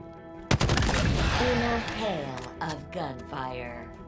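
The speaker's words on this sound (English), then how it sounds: "In a hail of gunfire" A sharp burst of gunfire opens a rattling, echoing volley, with a voice speaking over the continuing shots.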